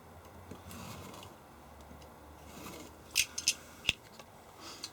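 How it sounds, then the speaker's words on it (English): A cutting tool scores the copper side of a PCB board, with a few sharp, brief scratching clicks near the end over a quiet background hiss, close and faint. "then we score this side of the board on the print side"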